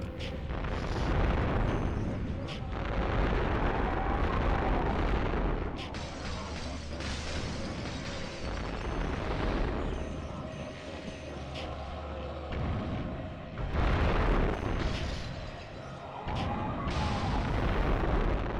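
Rolling waves of heavy blasts from a fire-breath cluster bomb attack in The Legend of Spyro: A New Beginning, booming repeatedly and loudly with brief lulls between surges.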